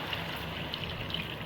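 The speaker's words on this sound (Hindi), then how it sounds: "अब हम इसमें पानी ऐड करेंगे।" Water pours steadily into a cooking pot holding browned beef and bones for nihari, a continuous close splashing trickle with no talking.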